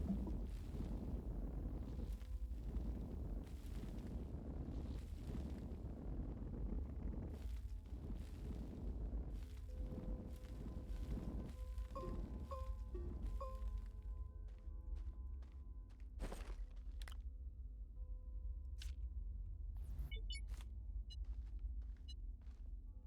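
Explosions in the video game Astroneer: a steady run of deep booming thuds and rumbles, loud and close, with a few sharper cracks and bright tones toward the end, no talking.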